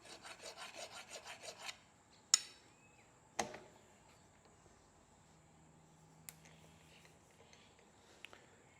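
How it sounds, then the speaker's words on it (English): A hand file takes the burr off a planetary gear shaft, giving a quick series of rhythmic rasping strokes. These are followed by a few sharp metallic knocks and taps in a quiet workshop. "I'll just take the burr off."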